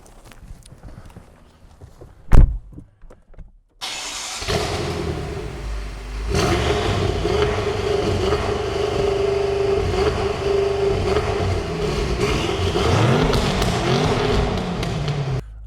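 2014 BMW M5 engine and exhaust: after quiet handling noises and a thump, the engine fires and settles into a loud, steady rumbling idle with a few throttle swells, heard up close.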